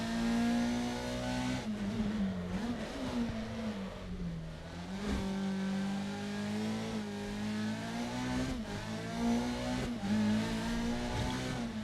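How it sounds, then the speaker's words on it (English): Car engine in the Dirt Rally 2.0 racing game revs hard and continuously, with pitch dips and rises marking repeated gear changes, loud and close with no talking. "And listen to the changing gears as well."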